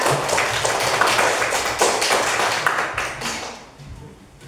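A classroom of pupils claps for a group that has just finished presenting. Quick, scattered hand claps ring out close and fairly loud, then thin out and fade toward the end.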